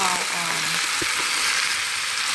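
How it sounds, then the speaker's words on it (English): Ground beef browning in a hot skillet for stuffed bell peppers, a dense, even sizzle close by with a couple of brief utensil clicks, no talking. "my skillet is hot now, and I'm going to go ahead and add the ground beef to the skillet and brown it"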